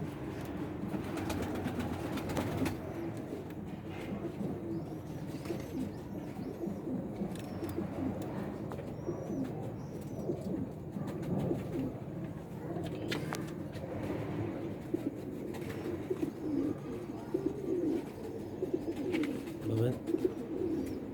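Sialkoti pigeons give soft, repeated cooing calls close by over a steady low background hum, while someone speaks intermittently alongside them.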